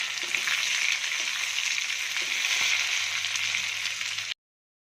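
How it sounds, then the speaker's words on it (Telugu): Curry leaves frying in hot oil, a steady close hiss and sizzle with faint crackles and a brief stir, continuing alone until it cuts off abruptly. "ఇప్పుడు కరివేపాకు కూడా వేసుకొని వేయించాలి"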